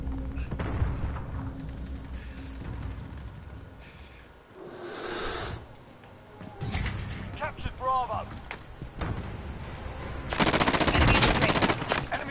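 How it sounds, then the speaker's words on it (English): An enemy sentry gun fires in a shooter video game: scattered mechanical bursts, thuds and a dense, loud volley near the end, mixed with game effects and spoken voices. "Enemy sentry gun active."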